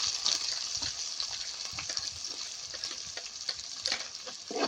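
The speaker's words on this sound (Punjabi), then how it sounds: "ਨਾਲ ਹੀ ਪਾ ਦਾਂਗੇ ਜੀ ਕੱਟੇ ਹੋਏ ਪਿਆਜ਼" Chopped onions go into golden-browned garlic in a pan and fry with a steady, bright hiss, while light spoon clicks and stirring come through close up and nobody speaks.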